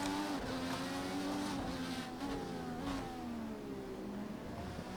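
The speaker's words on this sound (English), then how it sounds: "the sound of the cars reverberates off the walls" Race car engine in Project CARS 2 roars and shifts pitch as it accelerates past, with the noise reverberating off walls, a continuous loud drone without speech.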